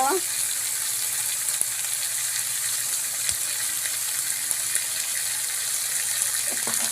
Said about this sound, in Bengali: আমি সুন্দর করে ঝিঙেটাকে নেড়ে ভালো করে ভাজা ভাজা করে কষাই নিই।